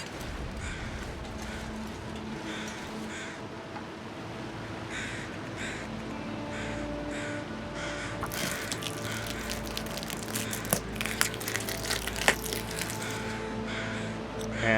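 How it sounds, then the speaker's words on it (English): Crows caw repeatedly in The Long Dark video game, several harsh calls rising over a steady ambient wind bed, clustering loudly in the second half with sharp clicks and crunches mixed in. "now that it's clear and there are crows out"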